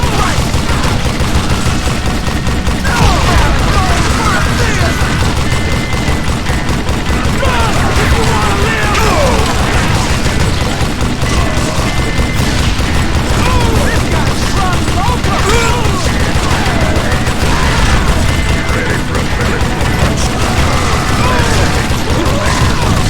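Dense gunfire from a Wild West shootout in Call of Juarez Gunslinger, with repeated shots, booms and crashes running continuously at steady loudness under a busy game soundscape.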